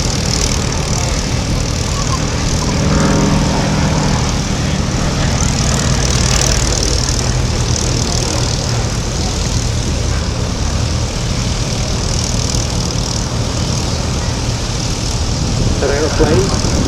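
A Beechcraft E-17S Staggerwing biplane's radial piston engine drones steadily at an airshow, a loud continuous rumbling roar with a slight swell partway through, heard amid outdoor crowd noise.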